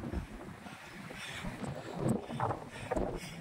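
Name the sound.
strong wind on mountain trail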